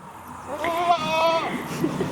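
A meat-breed goat on a farm gives one drawn-out, wavering bleat at moderate distance, rising and fading over about a second, followed by a couple of faint short squeaks.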